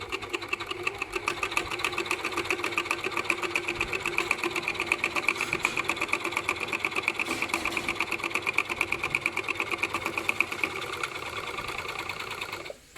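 A sewing machine runs continuously, stitching the edge of armour lining material with a fast, even mechanical chatter that stays loud and close before stopping abruptly at the end.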